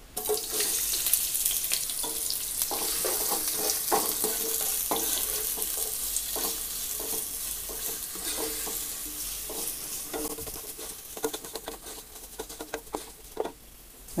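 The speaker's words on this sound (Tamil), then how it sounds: "வெங்காயம் வதக்கியாச்சு" Onions sautéing with cinnamon, cloves and cardamom in a pan, giving a steady sizzle and frying hiss with repeated stirring scrapes and clatter throughout, close and continuous with no talk.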